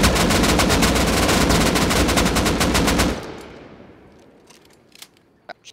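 Rapid automatic gunfire from the Rust video game, shooting at a chest during a raid, hammers loudly and continuously for about three seconds, then cuts off into a fading echo with a few faint clicks after.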